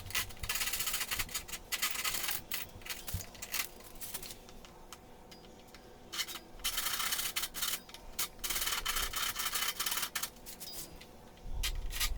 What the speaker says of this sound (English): using my pull saw to cut off the ends of the tenon on the table so it'll fit inside the breadboard ends